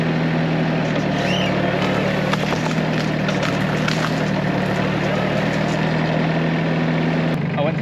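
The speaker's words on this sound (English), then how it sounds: "Judging by how strong this little tractor can be" A small tractor engine runs at a steady idle, a constant close mechanical hum and rattle that holds without change from start to end.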